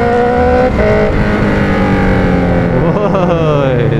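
A Honda CB650R motorcycle accelerates on a ride, its engine tone climbing steadily with a shift partway through, loud and close with wind noise throughout.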